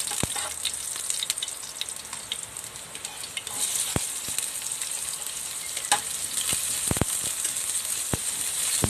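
Garlic and onion sauté in a little oil, a continuous close sizzle with sharp pops and occasional clicks of a utensil stirring, steady and moderately loud throughout, with no voices.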